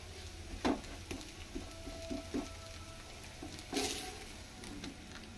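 Carrot dosa cooks in oil on a hot pan, a faint, steady sizzle with a few soft taps and scrapes scattered through it, quiet and close.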